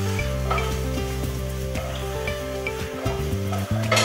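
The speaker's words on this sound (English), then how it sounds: "We've got the wok, we can toss, we don't have to stir." Eggplant tossed in a wok for a lamb and eggplant casserole, a steady close sizzle with rhythmic clatter and scrapes as the pieces are flipped, over a low tonal hum and with no one talking.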